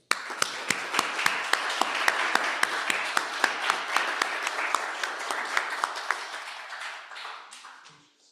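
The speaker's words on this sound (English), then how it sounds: "one more round of applause" A small audience at a poetry reading applauds the poets, with distinct individual claps standing out over a thinner patter that gradually fades out over about eight seconds.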